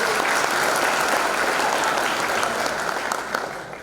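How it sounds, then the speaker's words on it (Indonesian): Audience applause fills the room at a student orientation event, a dense, steady wash of clapping lasting the whole stretch and tapering slightly toward the end. "Tepuk tangan untuk Kak."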